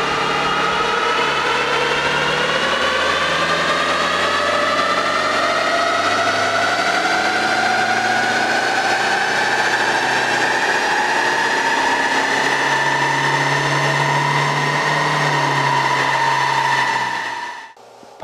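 A Toyota HiAce van's 2.5-litre 2KD diesel engine runs steadily under load on a dyno, a loud sustained drone whose pitch climbs slowly throughout before cutting off abruptly at the end.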